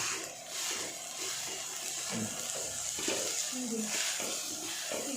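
Chicken and green masala fry in a pan on a home gas stove, a steady close sizzle with intermittent stirring scrapes and utensil clinks, voices talking faintly in the background.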